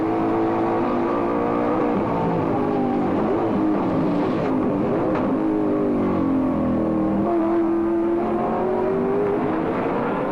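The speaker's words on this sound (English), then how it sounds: "Listen to the V8 work." A V8 race car engine revs hard and steadily during a race at the 1992 Nissan Mobil 500 in Wellington, pitch sweeping up and down through the gears, loud and close with no talking.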